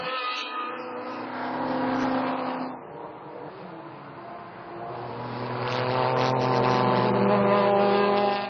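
Racing cars at the Dijon circuit in 2006, their engines a loud droning whine that swells, dips and rises again as they pass close by.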